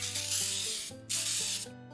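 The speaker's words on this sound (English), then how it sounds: "So I'm going to spray it with some baking spray just for some added assurance." Baking spray is sprayed into a 9-inch springform cake pan in two hissing bursts with a brief pause between them, close by, over a soft steady hum of background tones.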